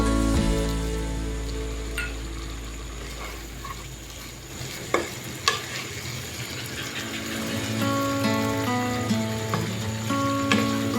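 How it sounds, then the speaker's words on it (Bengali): Chicken pieces sauté in a pan for a spicy dum-style chicken, with a constant loud sizzle and frying hiss. Scattered clinks and scrapes of stirring sit on top, and no one speaks. "মাংসগুলো দিয়ে আরেকটু কষিয়ে নিব"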